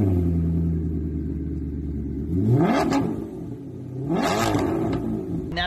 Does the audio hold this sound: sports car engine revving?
yes